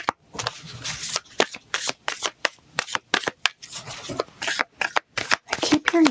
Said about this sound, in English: I'm gonna shuffle all the decks